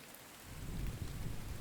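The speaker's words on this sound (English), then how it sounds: "look at the rain at night and the lights" Rain at night in the survival video game The Infected, a steady wash of falling rain with a low rumbling undertone that swells after a quiet start and holds.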